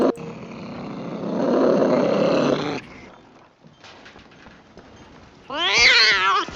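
A cat in the video game Skyrim lets out a drawn, wavering meow near the end, following a stretch of low rumbling game ambience and quieter background sound.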